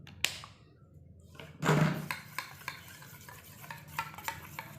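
A spoonful of aloe vera gel is stirred into a homemade vitamin C night cream, making soft, close scraping and clicking against the bowl, with a louder burst of mixing partway through and no talk.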